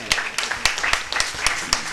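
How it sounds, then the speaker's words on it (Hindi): A small audience claps in a steady, sparse rhythm of single hand claps, moderately close, with a voice faintly underneath. "सभी लोग तालियों से इनका धन्यवाद करें"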